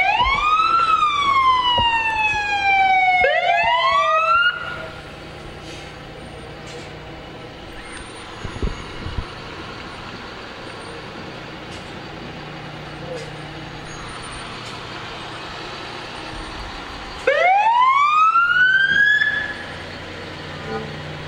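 Fire truck sirens from a rural fire district wail up and down at the start of a Veterans Day parade, fade into a busy outdoor rumble, then a siren sweeps up loudly again near the end.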